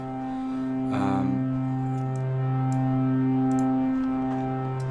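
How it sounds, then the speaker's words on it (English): A held retro synth chord with a buzzy square-wave tone and mixed-in noise giving a brief burst, sustained and steady with faint key clicks. "I've got some noise mixed in and then just a square wave."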